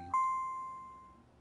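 A single school announcement chime rings out in the video game Pokémon Violet: one clear bell-like tone struck once, then fading slowly over about a second in otherwise quiet surroundings.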